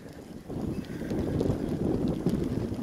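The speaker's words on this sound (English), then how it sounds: "You don't like the wind." Strong wind roaring through a snowy blizzard around horses outdoors, a steady, loud, low rushing with gusty buffeting on the microphone and no talk.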